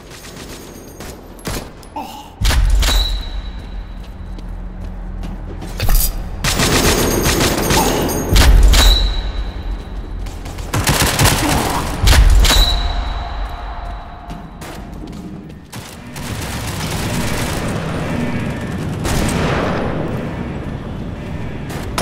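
Rapid shotgun gunfire from the Remington 11 in the World War Heroes video game, loud repeated blasts in bursts with booming low end and brief pauses between volleys.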